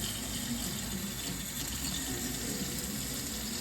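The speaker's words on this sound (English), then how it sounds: "we're gonna fill it up with cold water" Cold tap water runs steadily into a pot for ramen, a continuous even gushing hiss, close and unbroken, with no talking.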